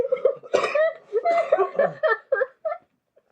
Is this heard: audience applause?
no